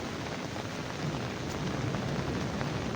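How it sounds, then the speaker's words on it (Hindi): Heavy rain pours steadily in Kashmir, a dense, continuous hiss of water falling on surfaces, close and loud throughout with no voices. "तेज़ बारिश हुई है कश्मीर में"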